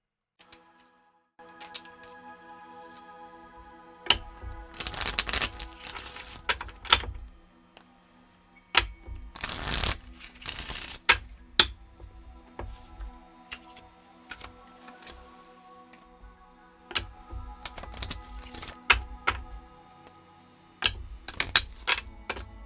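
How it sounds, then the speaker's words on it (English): Oracle cards are shuffled by hand, giving irregular riffling bursts, soft slaps and clicking taps at close range over faint sustained background music tones. "was shuffling for you guys, some really excited cards kind of flew out"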